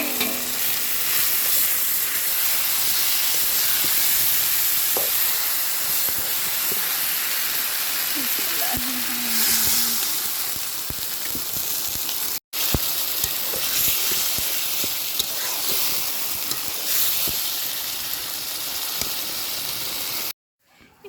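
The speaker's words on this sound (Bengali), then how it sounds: "এখন এই মাছগুলো দিয়ে দেবো ভুনার মধ্যে।" Fish sizzles and fries in a spice paste over a clay stove, a steady close hiss with occasional stirring scrapes, and someone speaks briefly over it.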